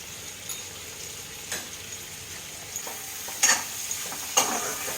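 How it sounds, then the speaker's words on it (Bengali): Onions and bitter gourd being fried with spices in a pan give a soft, steady sizzle up close, broken by a few scraping stirs and sharper spatula clacks, with no talking. "ভালো করে পেঁয়াজ আর করলায় আমি মশলাগুলো কষিয়ে নেব"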